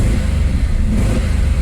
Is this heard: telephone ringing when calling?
no